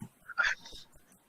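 A dog gives one short, high whimper, soft and close, with a faint yip before it and quiet after.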